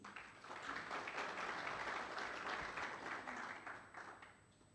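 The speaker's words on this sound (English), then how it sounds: "A big round of applause, please." Steady audience applause at a business school think tank, a dense sustained clapping wash welcoming Prof. Linda du Plessis to the stage, fairly even throughout and slowly easing at the close.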